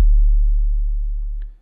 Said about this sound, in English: So you can see we've just got a basic sine wave here and a low pass filter